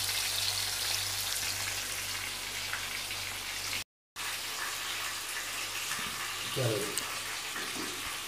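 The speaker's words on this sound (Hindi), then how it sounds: "मज़ीद इसको हम पाँच मिनट तक ही फ्राई करते हैं" Fish frying on a tawa, a steady broadband hiss and crackle of hot oil running throughout with a brief dropout midway, moderately loud with no talking.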